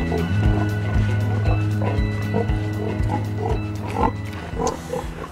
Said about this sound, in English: I keep a lot of pigs, a lot of different rare breed and different forms of pigs.